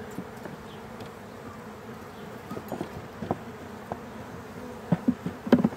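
Bees drone steadily around an open hive, a close, continuous buzz with scattered louder bumps and knocks toward the end.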